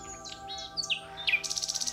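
Small birds chirp in a forest at a landscape photography spot, giving several bright separate calls before a fast, evenly repeated trill near the end. The calls are clear and close, with no voices.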